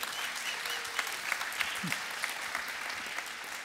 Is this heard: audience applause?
yes